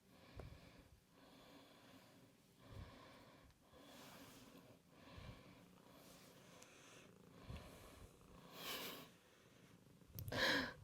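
A cat purrs softly and close in slow repeated rumbling cycles, mixed with snuffly breathing and a louder snort near the end; no talking.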